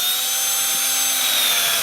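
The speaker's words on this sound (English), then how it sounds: "You wanna drill down until the tire comes back up." A power drill whines steadily at high speed as it bores into a rubber RC car tire to drain water, a loud continuous tone held close up with no break.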